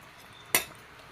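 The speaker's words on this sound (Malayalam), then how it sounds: "എന്നിട്ട് മൂടി വെച്ച് കൊടുക്കാം" A lid set down on a pot of vegetable fish curry: one quick metallic clink near the middle, close and clear in a quiet kitchen.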